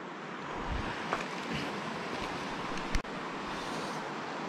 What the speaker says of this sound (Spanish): el río así tan ancho y con buen flujo de agua